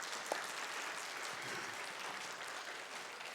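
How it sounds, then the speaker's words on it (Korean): Congregation at a Korean Sunday church service applauding together, a dense, steady wash of clapping heard from a distance, fairly faint and continuous throughout. "박수 치려면 제대로 치셔야 돼요."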